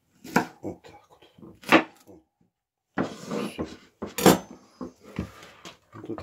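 A knife chops vegetables on a cutting board in a home kitchen, giving several sharp, close knocks in short clusters separated by brief pauses.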